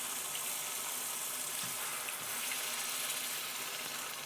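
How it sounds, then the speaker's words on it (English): Water is poured into a pot of lamb curry with Maris Piper potatoes, giving a steady hissing, splashing stream that runs evenly for several seconds with no talking. "3 cups of water."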